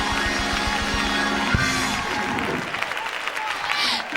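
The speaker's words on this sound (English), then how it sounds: "Clap those hands and shout" A church congregation claps in a quick, even rhythm and shouts, with voices and music blending over the beat before the clapping loosens into a busier mix.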